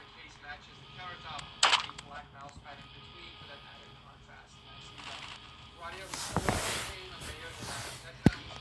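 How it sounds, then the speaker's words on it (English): Gunfire from shotguns in the Roblox game Da Hood: a sharp shot near 1.7 seconds, a louder noisy burst around 6.5 seconds and a final crisp crack near 8.3 seconds, with people talking throughout. "I can't do anything when they got the shotguns."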